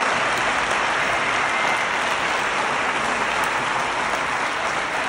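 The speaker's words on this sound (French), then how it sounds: "Je vous demande un tonnerre d'applaudissements pour Lana!" A crowd at a live show gives a thunderous round of applause for Lana, a sustained dense roar of clapping that holds at full strength throughout.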